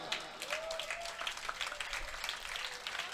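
An audience at a Hindi comic poetry recital breaks into sustained applause, dense steady clapping from a crowd heard at moderate distance with a faint voice underneath.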